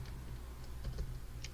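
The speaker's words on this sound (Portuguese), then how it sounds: "Eu continuo digitando." Soft keystrokes tap on a computer keyboard, a handful of light clicks spaced irregularly over a low background hum, fairly faint and with no voice.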